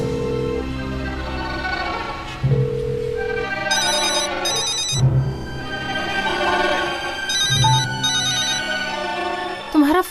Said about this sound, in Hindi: तुम्हारा फोन बज रहा है, उठाती क्यों नहीं?